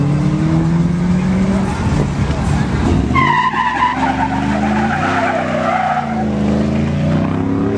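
Loud car skidding at a car meet: continuous tire screech and engine roar throughout, with rising and falling tonal squeal, a crowd voice briefly heard under the noise.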